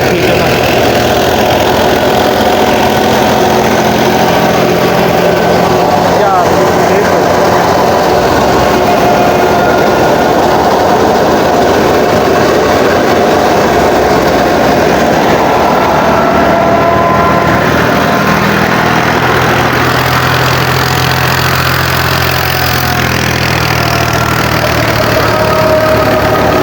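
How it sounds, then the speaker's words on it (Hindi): A tractor runs a threshing machine in a farm field, its engine droning loudly and steadily with a continuous mechanical rumble and rattle throughout, no pauses. "ये ट्रैक्टर है, ये वाला ये ट्रैक्टर है, वो थ्रेशर है"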